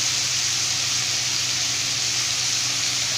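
Cut drumstick (moringa) pieces sautéing in hot oil in a pan for a Tamil kootu curry, a steady dense sizzle with soft crackle that holds evenly throughout, close and alone with no talk.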